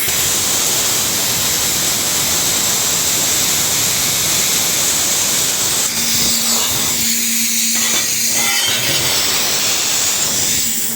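A plasma cutter slices through 4 mm metal sheet while building a garage stove, a loud continuous close-up roaring hiss that stays steady and then shifts to a lower hum near the end.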